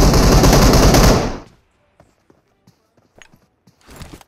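A loud, dense burst of automatic gunfire lasting about a second in PUBG Mobile, followed by faint scattered clicks and distant pops, then a short rustle at the end.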